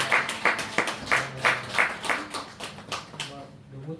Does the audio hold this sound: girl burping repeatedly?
no